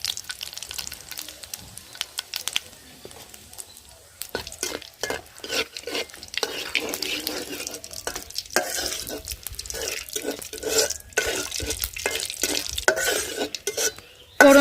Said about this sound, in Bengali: ফোড়নটা হালকা ভেজে নিয়েছি,